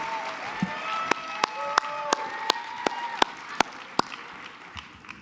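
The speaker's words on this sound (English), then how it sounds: "let's give Mary Elliott a round of applause" At an awards lunch for a national leadership forum, claps ring out for Mary Elliott as about ten sharp, evenly spaced hand claps, with a voice carrying on underneath.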